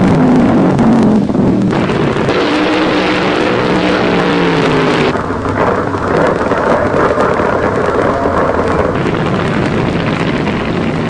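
A roaring drag racing engine, including a Camaro running the strip, blasts loud and continuous, rising in pitch as the car accelerates down the track before the note shifts and fades slightly, with no voices over it.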